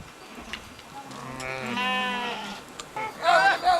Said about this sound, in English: a group of Tibetan sheep herders came through the village, and Rupa's husband bought a sheep